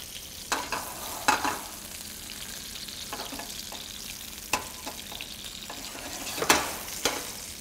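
Alaska salmon sautés in a pan, a soft continuous sizzle punctuated by scattered sharp clicks and scrapes from a utensil.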